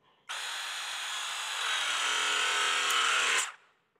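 A RIDGID RP-306 battery pressing tool crimps a pipe fitting with a Y-insert jaw, its motor starting abruptly and running as a steady whine for about three seconds, rising slightly in strain before cutting off sharply, close and alone.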